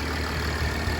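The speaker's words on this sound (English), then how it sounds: "engine runs nice and smoothly with nearly no issues" A steady, smooth engine idle from a roughly 2200-kilo Mercedes S-Class, a close, even hum with no voices over it.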